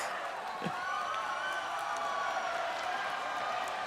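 A crowd at the 2017 Pokemon TCG World Championships senior finals applauds and cheers, a dense, sustained wash of clapping mixed with voices in the hall.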